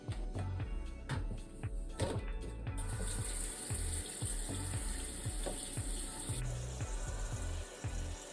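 Water runs steadily into a small Temu portable washing machine being filled for a load of hand towels, a continuous hiss with a few knocks and a change in tone partway through.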